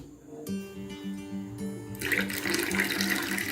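Water is poured into churned buttermilk mixed with coriander leaves, a continuous splashing pour that begins faint, steadies, then swells louder and fuller near the end, close by with no talking.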